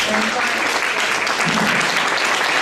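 A crowd at a performing arts awards ceremony applauds steadily, a dense wash of clapping that stays even in level from start to finish.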